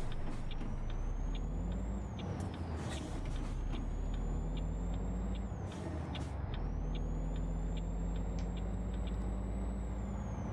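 An Estes Express semi truck in American Truck Simulator rumbles steadily up close while sharp air brake hisses and whining gear-shift tones rise and fall in repeated sweeps, with no talking over it.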